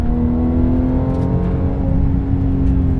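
Rear flat-engined car revving hard, a loud steady engine drone with layered harmonics that holds high and sustained throughout, heard from inside the cabin with no talking.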